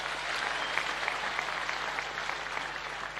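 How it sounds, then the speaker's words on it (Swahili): A crowd applauds at a church service held in a stadium in Kerugoya, a steady, dense wash of clapping from many hands that holds evenly throughout. "Mpigieni makofi."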